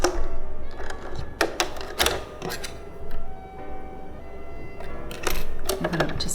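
A home sewing machine running a zigzag stitch while a tote bag is pieced, with a steady mechanical whir broken by sharper clatters and starts and stops.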